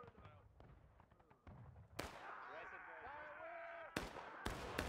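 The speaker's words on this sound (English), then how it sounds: "cannon fire" Cannon fire in the American Civil War game War of Rights: several loud, sharp booms go off, one alone and then a tight pair near the end, over shouting voices and battle noise.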